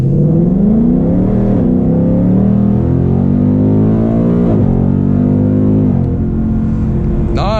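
A Ford Mustang GT launches hard from a standstill, its engine roaring loud and close as revs climb steeply through the gears with several upshift drops, a sustained powerful V8 pull.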